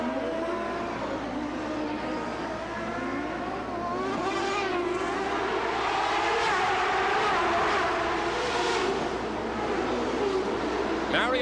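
CART Indy race cars with Ford and Ilmore engines scream past on the Vancouver street circuit, several high-pitched engine notes rising and falling as cars pass close by, under a commentator's voice.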